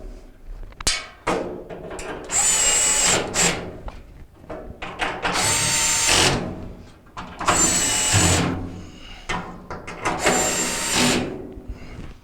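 A power drill drives 5/16 screws back into a Maytag dryer cabinet during a drum support wheel repair, four loud whirring bursts with short pauses and small clanks between them.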